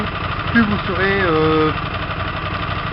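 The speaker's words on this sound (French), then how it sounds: "que votre moteur ronronne bien" A Hyosung 125 GTR motorcycle engine runs at a steady low idle while its fuel mixture is adjusted, humming close by under someone talking.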